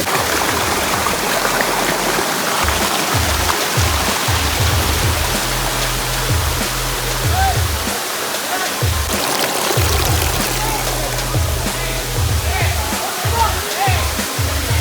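The Palakonda waterfall in Kadapa, Andhra Pradesh, gives a loud, constant close roar of falling water, with people talking over it throughout.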